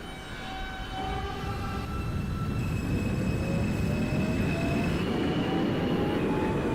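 A subway train in the OpenBVE simulator, an E train on an express track, rolls along with a steady, loud rumble that builds over the first seconds, and thin squeals from the wheels run throughout.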